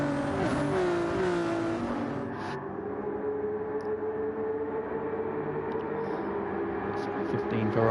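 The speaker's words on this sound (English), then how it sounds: "So 15 Ferraris fly down this back straight" About fifteen Ferrari GT3 race cars in a sim racing game at Abu Dhabi roar down the back straight together. Their engines drone loudly and steadily while a commentator talks over them.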